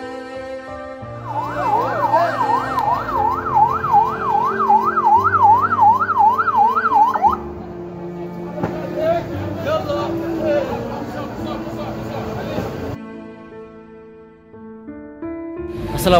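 An ambulance siren wails, rising and falling rapidly for several seconds amid crowd noise and talking at a Gaza hospital in October 2023, then gives way to other sounds.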